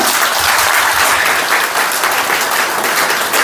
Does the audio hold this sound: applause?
yes